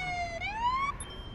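Siren of an ambulance in the Police Simulator: Patrol Officers game, a wailing tone that sweeps down then climbs again, steady and moderately loud over low background rumble, with no speech.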